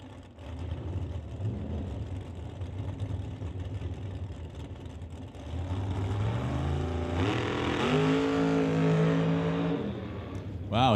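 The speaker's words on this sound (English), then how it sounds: "68 Camaro with 632 cubic inch big block Chevy under the hood." A 68 Camaro with a 632 cubic inch big block Chevy runs at a drag strip, its engine note rising through several climbing revs and gear changes over crowd and track ambience.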